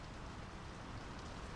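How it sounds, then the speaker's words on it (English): Steady rain pours down in a Norwegian fjord village in the video game Draugen, a dense, even hiss of falling drops with no break, fairly soft and heard alone. "The rain's picking up."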